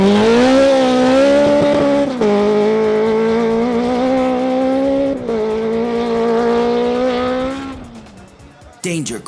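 Race car driven hard up a hill climb course, its engine screaming loud and close with rising revs that drop sharply at each gear change, several shifts in a row before a sudden cutoff and a burst of noise at the end.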